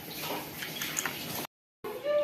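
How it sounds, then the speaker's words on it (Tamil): Crab curry bubbles in a pot with green mango pieces and ground crab-leg broth, a soft, close gurgle and popping of simmering liquid that briefly cuts out before resuming. "பாருங்க, குழம்பு நல்லா கொதிக்குது."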